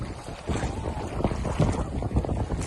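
Wind rushing and buffeting the microphone on a boat out on Siriu Lake, a steady broadband roar with gusty low rumble and faint water movement throughout, no talk.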